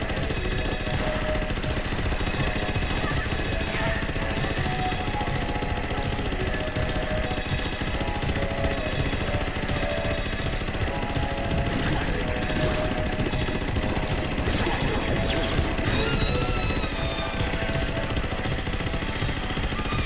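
Continuous rapid shooting in the VR game Astro Bot Rescue Mission, a dense chattering stream of shots layered over busy game music and effects.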